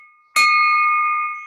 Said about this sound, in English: I got to get this thing ringing better.